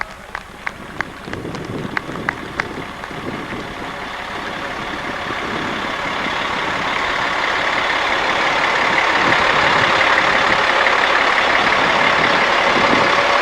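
A large Peterbilt truck from a service center rolls past during a street parade, its engine and road noise swelling steadily louder as it nears, with a few short beeps early on and crowd murmur underneath.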